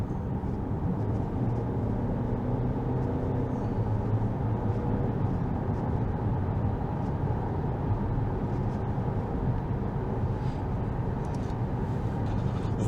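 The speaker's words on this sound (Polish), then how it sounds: "Czy ten silnik jakoś strasznie wyje podczas przyspieszania?" A Ford Kuga Hybrid AWD with 183 hp gives a steady, low droning rumble from inside the cabin as it accelerates toward 100 km/h, with no clear rise in pitch and no voices.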